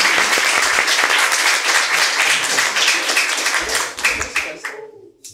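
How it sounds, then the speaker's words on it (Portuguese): Loud, dense audience applause for a speaker at a creative technology panel, steady clapping that thins out and fades over the final second. "uma salva de palmas"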